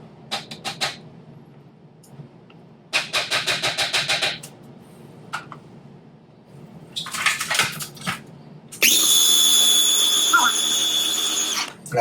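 A blender pulsing cheesecake mix in short whirring bursts, then one sustained high-speed run, with speech heard between bursts.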